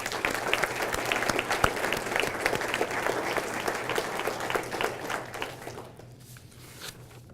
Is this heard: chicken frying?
no